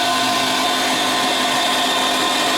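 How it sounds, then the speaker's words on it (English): Steady motorized whirring from a meat grinder working soaked bread into a pork and chicken pâté mixture, a continuous close drone with no pauses and no voices. "Now I will grind the soaked bread and I will add all this mixture to my"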